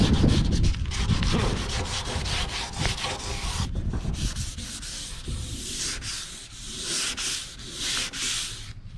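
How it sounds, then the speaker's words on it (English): Sandpaper scrubs car body paint by hand in rapid back-and-forth strokes, a close, loud, raspy scratching that keeps an uneven rhythm throughout. "you could just keep sanding till it's gone"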